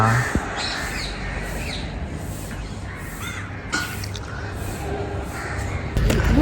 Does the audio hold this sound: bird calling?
yes